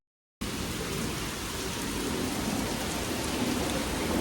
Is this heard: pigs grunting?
no